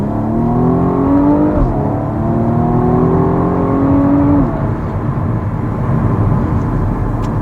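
A 2021 BMW 1 Series M135i F40 hot hatch accelerating in manual sport mode, its engine note rising loudly through the revs, dropping briefly at a gear change, then climbing again before easing off.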